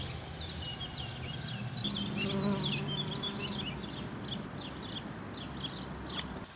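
Bees buzz steadily among wildflowers in a garden on an old cemetery, a dense insect drone that runs the whole way through, with faint bird calls chirping in the background.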